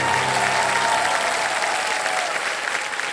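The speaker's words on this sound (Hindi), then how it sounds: "Big hand for everybody." Studio audience applauding on a Kaun Banega Crorepati game-show set, a dense, steady wash of clapping that stays loud throughout, with a brief musical tone underneath at the start.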